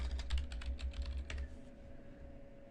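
Someone types on a computer keyboard in a quick run of close, crisp keystrokes that thins out after about a second and a half, leaving a faint steady hum.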